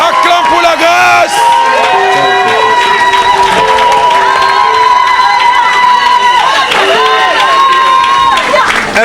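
A church congregation cheering and acclaiming during a revival service, loud crowd shouts, whoops and applause swelling in waves, mixed with voices calling out over the din.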